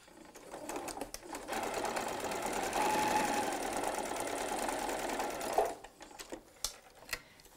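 A sewing machine stitches a quarter-inch seam on quilting fabric, a steady, close mechanical whirring hum lasting about five seconds before it stops, followed by faint handling sounds.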